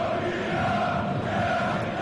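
German football supporters cheer from the stands at Wembley Stadium during a Euro 2020 match against England, a steady, dense crowd roar with no single voice standing out.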